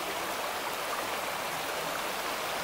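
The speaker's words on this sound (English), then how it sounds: "This is the Stevenston Burn running through the site." Stevenston Burn, a stream running through Kerelaw Glen near Stevenston in North Ayrshire, rushes in a steady, dense wash of flowing water, close and continuous with no voices.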